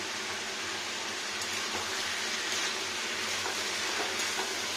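Bottle gourd with poppy seed and a little sugar being stirred in a pan over full heat, a steady broadband sizzle with faint scraping strokes throughout, close and continuous with no voices.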